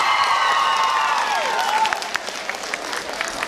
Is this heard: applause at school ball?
yes